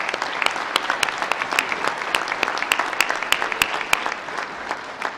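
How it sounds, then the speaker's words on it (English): A commencement ceremony crowd applauds a retiring staff member, with steady clapping across the whole span and individual sharp claps popping out above the crowd. "let's give him a big round of applause"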